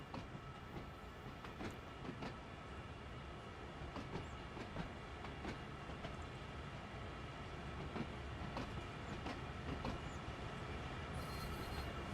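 A London Underground Bakerloo line 1938 Stock train running in Train Sim World 2, with a steady rolling rumble broken by regular clicks and thumps over rail joints, near and continuous throughout.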